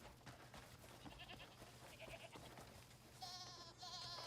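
A goat bleats in the Crimson Desert video game: several short, nasal cries over quiet background rustle, with two louder, wavering bleats close by near the end.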